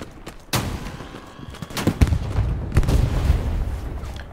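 Satchel charge exploding on a tank in a World War II shooter game, a sharp blast followed by a string of booms and gunfire thuds amid ongoing battle noise.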